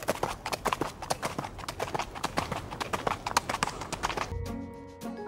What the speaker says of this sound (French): Ah oui, un cheval qui galope.